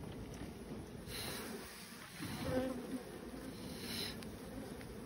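Honeybees drone steadily while a hive is split and frames are handled, a dense, continuous buzz close to the microphone with no talk.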